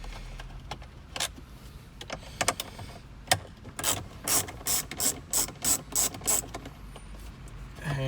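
A ratchet socket wrench undoes bolts inside the dashboard of a Mazda BT50 ute, giving scattered single clicks and then a run of quick, regular ratcheting bursts, close and clear with no talking.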